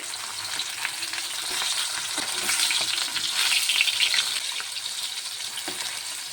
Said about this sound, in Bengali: কাঁকরোলগুলি এক পিঠ ভাজা হয়ে গেছে,